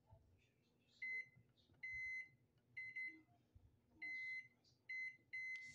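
Microwave oven beeping in a kitchen, a series of short sharp electronic tones in uneven groups, fairly quiet against low background noise.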